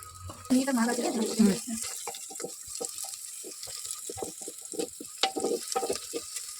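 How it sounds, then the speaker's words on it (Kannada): Boiled hanagone greens drop into a hot oil tempering of popped mustard seeds, setting off a loud close burst of sizzling that fades into lighter crackling and spattering with stirring. "ಸೊಪ್ಪು ಒಗ್ಗರಣೆಗೆ ಹಾಕ್ತಿದ್ದೀನಿ"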